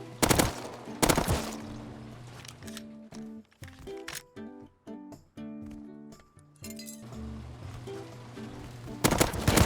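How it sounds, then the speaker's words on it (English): Gunfire rings out in the survival game Rust, loud sharp bursts at the start and end, with metallic clinking and tonal game sounds between them. "Who's shooting at them?"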